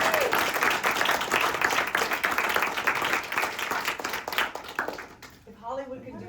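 A roomful of people at a membership meeting applaud together, dense steady clapping for about five seconds before it thins out and a voice begins speaking.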